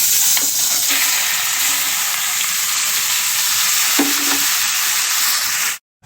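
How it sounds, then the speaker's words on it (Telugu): Gongura leaves fry in hot oil with a loud, continuous sizzle and crackle, occasional stirring knocks breaking through, close up and without talk. "ఇప్పుడు ఈ గోంగూరను అయితే నూనెలో ఉడకబెడతాను"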